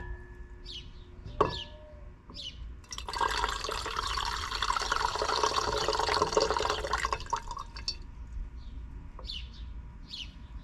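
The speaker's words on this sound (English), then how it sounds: "Adding this used dilute nitric acid." Dilute nitric acid poured onto placer gold mixed with a little copper and silver, a steady liquid pour and fizzing wash lasting several seconds, with faint bird chirps outdoors before and after.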